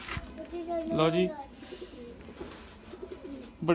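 A breeder-quality female pigeon coos in a few soft, throaty calls near the start, with someone talking over and between them.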